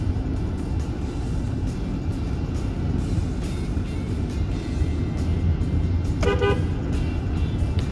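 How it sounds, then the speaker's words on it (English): A car horn gives a short honk at about the six-second mark inside a road tunnel, cutting through a constant loud rumble of traffic and tire noise echoing off the walls. "Got to honk your horn in the tunnel."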